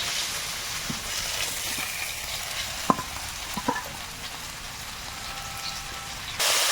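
Fish frying in one pan beside taro and potato seasoned with salt and turmeric, a steady close sizzle with a few sharp clicks of stirring partway through and a louder burst of crackle at the end.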